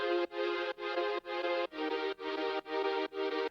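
Progressive house synth chord presets with reverb, eight even pulsing chord stabs in a steady rhythm, bright and sustained, fairly quiet and played alone.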